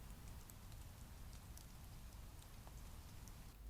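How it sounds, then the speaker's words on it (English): Light rain falls steadily at night in a wood, a soft continuous patter with faint scattered drops and no other sounds. "While it had been dry during the day, it was light rain."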